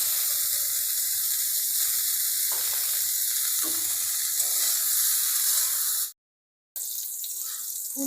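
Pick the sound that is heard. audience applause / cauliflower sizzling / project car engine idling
cauliflower sizzling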